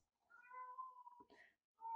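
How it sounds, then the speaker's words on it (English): A cat on a back porch meows in a drawn-out, wavering cry, then gives a shorter second meow, clear and close, after catching a lizard. "Uh-oh, cat I think caught a lizard."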